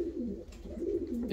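Soft pigeon cooing, two low, rounded coos in quick succession, faint and close, among decorative show pigeons.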